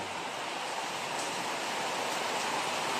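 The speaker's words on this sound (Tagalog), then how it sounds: "Ulan." Steady rain hisses as a dense, even wash of noise that never lets up, heard close and alone with no voices.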